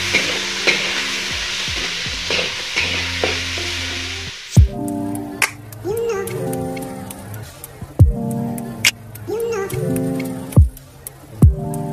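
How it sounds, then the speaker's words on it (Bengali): Onion, garlic, ginger, chilli powder and chillies fry in a pan for a potato dish. A loud sizzle comes first, then repeated spatula knocks and stirring scrapes, with tonal voice or music sounds running over it. "দিয়ে নিচ্ছি পেঁয়াজ, রসুন, আদা, লঙ্কা গুঁড়ো, লঙ্কা, তারপর নেড়ে নেওয়া হচ্ছে"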